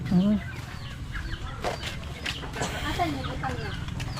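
A chicken clucks in a village, a short loud cluck up front followed by softer scattered clucks, with people talking quietly in the background.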